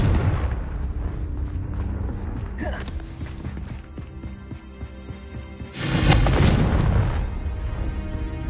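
A Confringo explosion spell cast in a Harry Potter video game, booming blasts with layered rumbles over game music, one strong burst about two-thirds through, and no talking.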